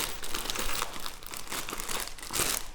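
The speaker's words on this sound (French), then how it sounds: "Alors désolé pour le bruit du sachet." Loud, close crinkling of a plastic bag, irregular crackling bursts continuing throughout without any voices.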